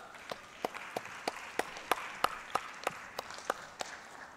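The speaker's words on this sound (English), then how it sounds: "Round of applause for her." Quiet, rhythmic clapping from the audience at the ACCES 2022 music business conference, evenly spaced claps beating steadily in time over faint background crowd noise.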